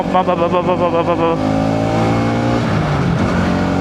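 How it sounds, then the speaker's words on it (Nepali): A loud motorbike engine revving in a steady, throaty roar, its pitch rising and falling, with voices talking over it. "ल हेर त मेरो साउन्ड भन्दा नि यो बाइकको ठुलो साउन्ड रहेछ यार"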